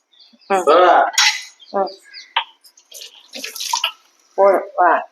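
Dishes and cutlery clatter in running water, with intermittent splashing under close-up conversation.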